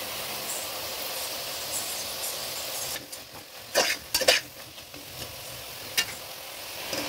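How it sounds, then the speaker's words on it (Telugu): Vegetables including carrot and capsicum stir-frying on high flame for sambar, a steady sizzle with a few louder scraping stirs of a spatula in the pan partway through. "ఇప్పుడు ఇదంతా బాగా హై ఫ్లేమ్ మీద ఫ్రై చేసుకోండి."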